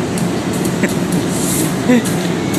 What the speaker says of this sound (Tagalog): LRT na traffic dito sa Baclaran